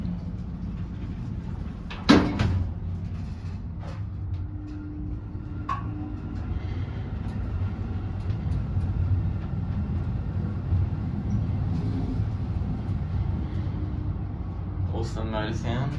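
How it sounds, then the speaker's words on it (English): A Johns Perry traction lift motor in an office building at 46 Edward Street runs with a low, steady hum, a sharp mechanical clunk near the start and a rattling clatter at the end. "Awesome motor sound, efficient."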